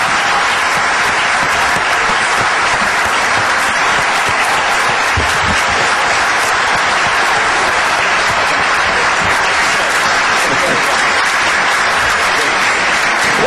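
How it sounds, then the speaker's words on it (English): Audience applause at the end of an evening question-and-answer session, sustained loud, dense clapping from a full room lasting throughout without pause. "Don't you think we should give these three a round of applause?"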